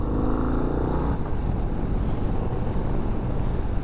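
Harley-Davidson Lowrider ST performance bagger on a soft-tail chassis, riding with a deep, steady engine rumble and a shifting drone that drops in pitch partway through, heavy wind buffeting the microphone throughout.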